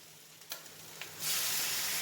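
Squid goes into a hot pan after a couple of light clinks, then bursts into a loud, steady close sizzle that fills the rest of the moment.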